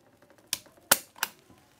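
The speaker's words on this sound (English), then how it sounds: "Let's see what kind of factory double action trigger pull we're starting with" A Beretta 92FS pistol with its factory double-action trigger gives three sharp, close mechanical clicks, the middle one loudest, with quiet gaps between them.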